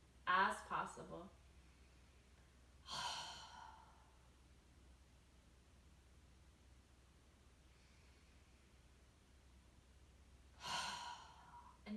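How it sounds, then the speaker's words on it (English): During a fitness-class breathing exercise, a person blows fast, forceful exhales out through the mouth, three separate loud gusts spread across a quiet stretch with long pauses between them. "Blowing those exhales out as quickly as possible."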